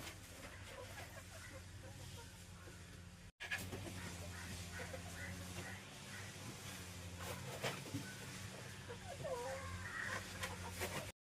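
Chickens clucking inside a newly built coop during rain, with steady rain noise underneath and a brief break before the sound resumes; scattered clucks throughout, fairly close.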